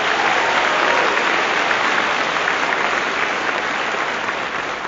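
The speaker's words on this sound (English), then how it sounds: "Let's give them an applause" An audience at a medical school white coat ceremony gives sustained applause, a full, even roar of many hands clapping that holds steady and eases only slightly by the end.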